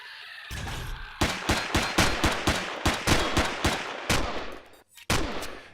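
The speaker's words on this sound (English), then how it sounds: "I'm just going to trigger it. The trapdoor will open. We'll shoot the gun." Trap gun in the Empyrion game firing after a trapdoor swings open, a rapid burst of loud, close gunshots in a steady rattling rhythm, pausing briefly before a final shot.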